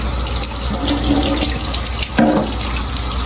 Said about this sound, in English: these guys are like, I'll give a bit of a rinse to